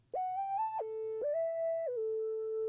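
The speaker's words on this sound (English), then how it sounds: "I added this sine lead from Pure Synth Platinum called KG800." Sine lead synth patch KG800 from Pure Synth Platinum plays a smooth, whistle-like melody with gliding pitch slides between a few sustained notes, clean and alone over a faint low pulse.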